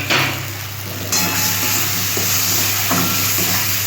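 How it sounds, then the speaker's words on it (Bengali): Red chilli powder and Kashmiri chilli powder frying in a pan while being stirred for a catfish curry: a steady close sizzle with a few scraping and clinking stirs, no talking. "মশলাটা আমি ভালো করে কষিয়ে নিচ্ছি।"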